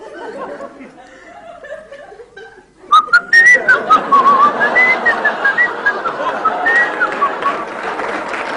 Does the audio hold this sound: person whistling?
yes